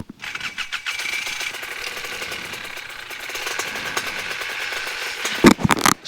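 A small Polini 303 paramotor engine cranks and catches, then runs steadily at a buzzing pitch, ending with a few louder revving bursts.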